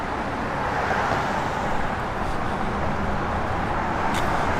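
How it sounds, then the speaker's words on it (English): A steady, deep engine rumble runs throughout, loud and continuous with no gaps, from a 1967 Chevrolet Corvette Roadster with side exhaust idling or cruising up close. "Nothing sounds like a mid-year with side exhaust."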